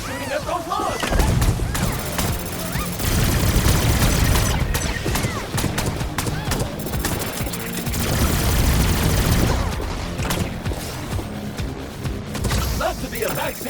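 Sustained gunfire and fusillades in the video game Revenge of the Savage Planet, with loud dense bursts of shots and booms running almost continuously under occasional game voices and effects.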